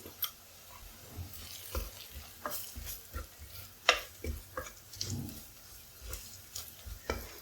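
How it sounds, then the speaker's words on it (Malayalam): Spice powders (asafoetida, turmeric, Kashmiri chilli, chilli and coriander) sizzle in oil in a pan for a soybean curry, with a spoon stirring and scraping in short irregular strokes close by, no talking. "മുളക് പൊടിയുടെയൊക്കെ പച്ചമണം ഒന്ന് പോകുന്നവരെ ഇളക്കാം"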